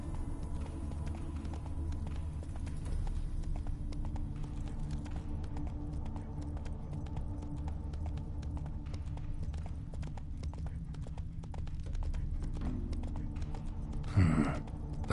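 Hoofbeats of the horse Roach in The Witcher 3 pound in a steady fast clip-clop rhythm over a low rumbling game background, fairly faint, with a short sharper burst near the end and no speech.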